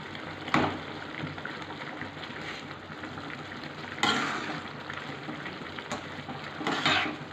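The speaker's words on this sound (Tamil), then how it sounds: "நம்ம போட்டது ஒரு 6 மிளகா காஞ்ச மிளகா போட்டிருக்கிறேன்." Mustard seeds, onion and six dried red chillies frying in hot oil for semiya upma, a constant crackling sizzle with a few sharp stirring clatters, close and alone.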